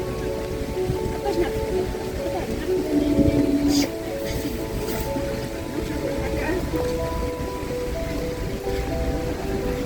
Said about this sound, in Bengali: ভীষণ বৃষ্টি হচ্ছে আজকে ভীষণ বৃষ্টি হচ্ছে